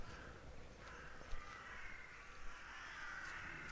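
Crows cawing in The Last Door video game, faint and distant over a steady wash of ambient noise, with a few scattered calls.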